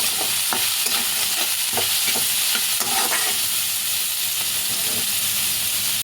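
Veg noodles with salt and ground black pepper stirred in a hot frying pan, a steady broadband sizzle with repeated scraping strokes of the spatula, close and continuous, with no talking.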